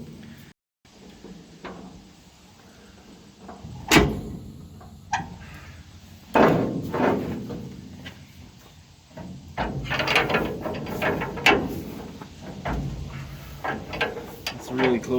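Repair work on a dump trailer: a mechanism is tightened in a series of scattered metallic ratcheting clicks and clunks, several sharp knocks among softer rattles, close by and with some background noise.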